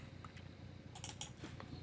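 Keys on a computer keyboard are typed while coding, giving a short cluster of quiet clicks midway over a low steady background hum.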